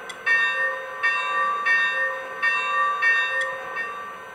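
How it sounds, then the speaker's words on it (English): A Lionel Legacy Milwaukee Road S3 Northern model locomotive rings its bell, a bright metallic clang repeating at an even, unhurried rhythm about every half second, close and clear with nothing else over it. "Got the bell."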